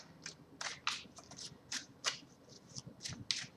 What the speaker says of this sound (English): the purpose of my shuffle right now is just to let the appropriate cards